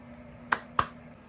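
Two sharp hand claps, about a quarter second apart, made while dancing to a song, crisp and close in an otherwise quiet room.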